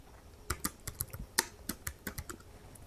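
Fast, uneven typing on a computer keyboard, close and clear, with about a dozen sharp key clicks scattered over a few seconds and no voices.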